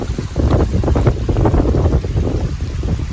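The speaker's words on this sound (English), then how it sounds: "You see how bad the wind's blowing, probably can hear it." Strong wind on the Appalachian Trail roars and buffets the microphone continuously, a loud, low rumbling rush with no letup and no voices.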